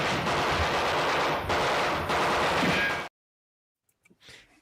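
Rapid automatic gunfire from a movie scene roars in a loud, continuous burst of about three seconds, then cuts abruptly to near silence with a few faint clicks.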